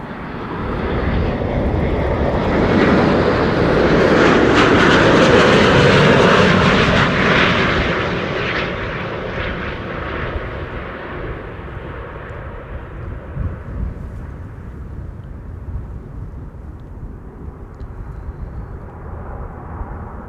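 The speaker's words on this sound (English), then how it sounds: "This is Qatar Airways flight 275 arriving from Doha." A Qatar Airways Airbus A350-900 lands at Amsterdam Schiphol. The loud jet roar builds to a peak as it passes close, then trails off into a long, fading rumble.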